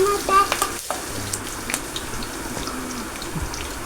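Onions and curry leaves sizzle in a pan while a spoon stirs through them, adding scraping clatters over a continuous, close frying hiss.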